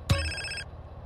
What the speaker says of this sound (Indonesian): Kita angkat telepon dari siapa nih?